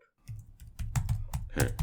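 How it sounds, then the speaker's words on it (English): Fast, close typing on a computer keyboard, a rapid run of crisp clicks and clacks in uneven bursts, with no voices. "I'm typing for the mic, honey."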